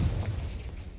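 A Confringo spell explodes in the video game Hogwarts Legacy, a low rumbling blast with crackling debris that fills the moment at moderate volume.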